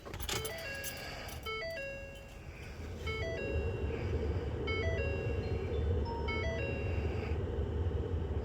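Startup chime of an aftermarket Android car radio installed in a Ford F150 truck, a short melodic sequence of bright electronic tones repeating in phrases over a steady low hum inside the cab.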